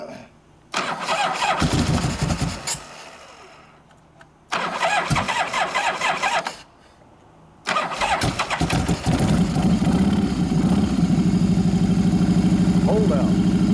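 A 1983 Harley-Davidson FXRT Shovelhead motorcycle cranks over twice with a ragged starter churn, then fires on the third try and settles into a loud, steady lumpy idle, close to the mic.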